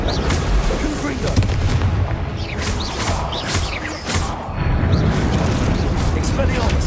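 Confringo blasting spell explosions in the video game Hogwarts Legacy, repeated booming blasts and rumbles in quick succession, loud and continuous, with a voice shouting spell names over them.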